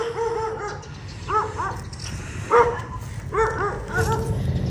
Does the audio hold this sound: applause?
no